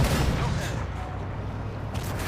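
Heavy tank cannon fire and explosions in the video game Armored Warfare, a dense, loud barrage of booms and blasts that fills the whole stretch with little pause.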